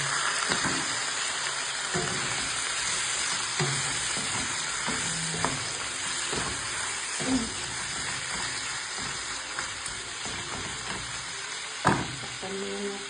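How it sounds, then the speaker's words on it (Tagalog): Chicken pieces frying in a garlic and onion sauté for honey adobo, with a loud crackling sizzle and steam hiss broken by occasional stirring clatter and spoon knocks against the pan, heard close with no voices. "Okay, pagkatapos na natin gisa, lalagay na natin ang ating chicken."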